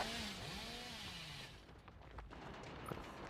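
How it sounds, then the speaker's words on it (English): Hillbilly's chainsaw in the Dead by Daylight Mobile video game revs with a rising and falling engine whine, faint and distant in the game mix, and fades out after about a second and a half. "being aggressive with the chainsaw use, but not actually getting anything out of it yet"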